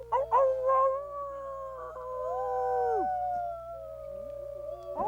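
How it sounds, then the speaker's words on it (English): A trained wolf howls in long sustained, gliding tones that bend and fall, with a second voice overlapping, clear and fairly close in a quiet setting. "teaching a wolf how to howl"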